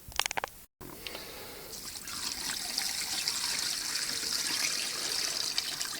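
Water poured and trickling for hand washing of laundry, a few brief clunks and a short break, then a steady close stream of running water.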